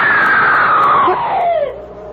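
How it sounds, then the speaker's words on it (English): A loud, sustained scream used as a sound effect in an old-time radio mystery drama, starting high and sliding steadily downward in pitch over about two seconds before trailing off. "I heard it, too. Someone screamed."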